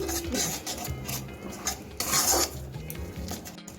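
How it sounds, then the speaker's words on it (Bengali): Spices with turmeric powder sautéed over a medium flame, stirred steadily with a metal spatula scraping and clinking against the pan, low sizzling beneath, close and continuous. "এখন আমি সব কিছু একটু কষিয়ে নেব দুই থেকে তিন মিনিট"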